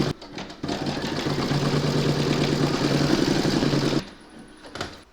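An embroidery machine stitching out a round of a gnome keyring tag's beard, a steady close mechanical hum with fast rhythmic stitching pulses for about three and a half seconds before stopping.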